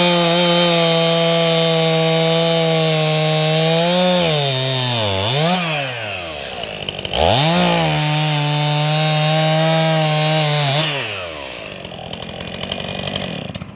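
A chainsaw roars close and loud while cutting a fallen log on a wilderness trail, its engine pitch dipping twice as the chain bites into the wood, then easing off toward idle at the end.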